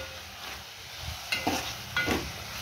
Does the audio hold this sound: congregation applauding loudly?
no